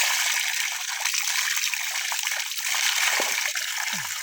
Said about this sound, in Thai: จะล้างเสื้อผ้านี่ล้างแบบนี้เลยเนาะเพราะว่าน้ำนี่ไหลตลอดเวลา